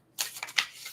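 Tarot cards shuffled by hand, a short riffling burst followed by a second crisp flutter, close and alone with no voices.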